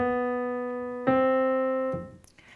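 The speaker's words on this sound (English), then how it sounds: "On that fourth beat, we get that famous little half-step riff that goes." A piano plays a half-step riff: a few sustained single notes, each struck cleanly and left to ring. The notes sound close and clear with no talking.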